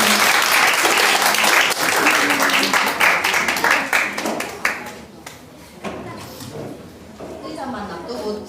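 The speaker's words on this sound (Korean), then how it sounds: "일단 박수." A church congregation at a Christmas service applauds before a short children's nativity play, loud dense clapping that gradually thins into scattered claps with voices under it.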